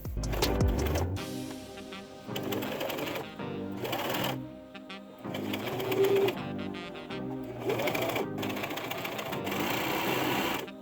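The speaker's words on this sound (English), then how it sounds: "Increase the tension of the machine and ran it through, so now it's ruffled." A sewing machine runs in bursts, stitching lace with raised tension to ruffle it for a tiered skirt, its rapid mechanical whir starting and stopping several times, close and clear.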